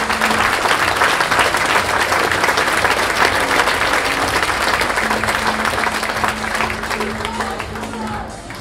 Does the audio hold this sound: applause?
yes